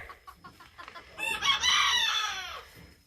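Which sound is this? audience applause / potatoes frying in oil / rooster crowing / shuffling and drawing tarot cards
rooster crowing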